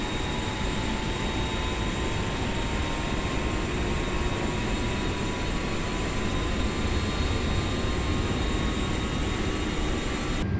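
An airliner's number 1 jet engine spools up during a start in Microsoft Flight Simulator, giving a steady, loud, broadband roar with thin rising whine tones, continuous and without talk.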